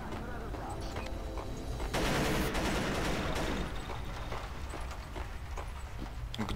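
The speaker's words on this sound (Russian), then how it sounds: "Где-то я слышу уже стрельбу." Distant gunfire from a video game crackles in irregular bursts over a steady background din, swelling louder midway then settling back.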